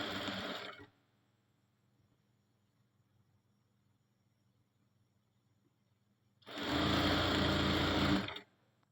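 Sewing machine stitching along a marked line in a cutting and stitching lesson, two separate bursts of steady whirring, one short at the start and a longer one near the end, with quiet between.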